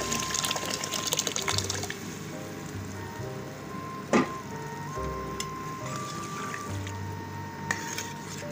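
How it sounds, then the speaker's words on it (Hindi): Water from boiling chickpeas being poured into a white chickpea curry, a soft liquid splashing and trickling in the kitchen, with a sharp clatter midway and faint tonal hum in the background. "मेरे बहन भाई वही पानी शामिल कर रही हूँ जिस पानी में से चने उबाले थे।"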